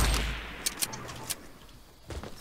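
A sniper rifle shot in a shooter video game, a few sharp cracks spaced apart over a low rumble, fairly close and brief.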